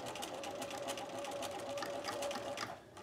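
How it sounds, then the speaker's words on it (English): A sewing machine stitches a seam along a basting line in sequined fabric, using a regular stitch and standard stitch length, running in a steady, rapid, close-up whir for about three seconds before easing off. "I'm going to go to my machine and I'm going to sew it. So I'm stitching along my seam."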